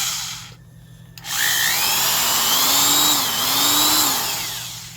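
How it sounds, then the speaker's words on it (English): After a brief hum and a short pause, a 1980s Black & Decker 1172 heavy duty 3/8-inch drill whirs up and runs steadily, its motor pitch dipping and rising slightly before slowing down. "the 1172 Black & Decker heavy duty drill"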